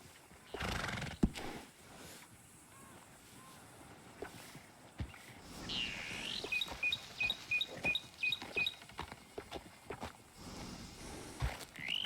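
A horse in a video game whinnies loudly, followed by a steady run of hollow hoof clip-clops, with other game sounds in the background.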